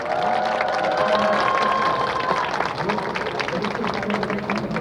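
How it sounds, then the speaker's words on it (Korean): Encouraging applause from a crowd at the weekly Wednesday rally, a sustained wash of clapping heard under a sustained tone and some background voices. "다시 한번 격려의 박수 부탁드립니다."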